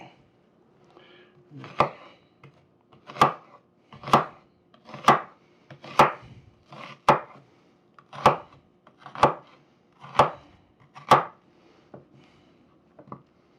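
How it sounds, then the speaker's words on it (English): A knife dicing an onion on a cutting board, about a dozen firm, evenly spaced chops roughly a second apart, close and clear with quiet between strokes. "let's get this onion diced up"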